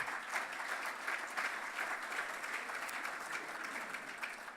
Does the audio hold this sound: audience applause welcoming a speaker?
yes